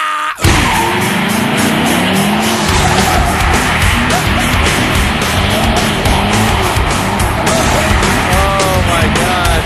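Dodge Viper truck spinning hardcore donuts, its engine roaring loud and close while the tires squeal and skid continuously in repeated warbling bursts.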